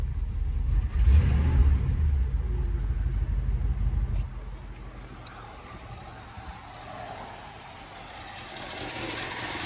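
A 1957 Chevy Bel Air engine rumbles roughly and unevenly nearby at first, then fades after a few seconds to a faint background murmur, with no talking.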